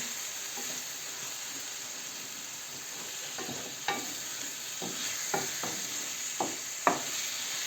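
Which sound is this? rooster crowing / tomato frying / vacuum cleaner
tomato frying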